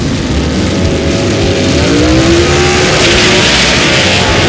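Gasser drag race cars roar off the starting line together at a Southeast Gassers night event, a loud sustained engine roar with rising pitch as they accelerate away, no talk over it.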